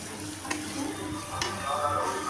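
Chicken kosa sizzles in spiced oil in a pan, with a steady fry hiss and a couple of brief stirring scrapes, close and moderately loud.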